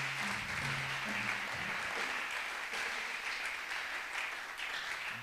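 Church worshippers applaud and acclaim the Lord during Prophète Garry Kenge's sermon: a continuous wash of clapping from a crowd that holds steady for several seconds without speech.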